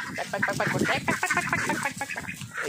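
Several birds quack and cluck continuously outdoors, a busy overlapping chatter with no talking.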